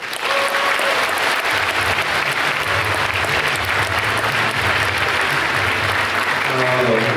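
An audience claps loudly and continuously for the actors and young director of a theatre troupe, a thick, even roar of applause throughout, with a voice breaking in faintly near the end.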